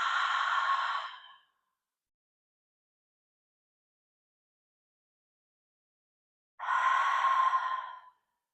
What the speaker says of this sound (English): with an exhale out the mouth, you you make that ha sound. Right? Some people call that Darth Vader breathing.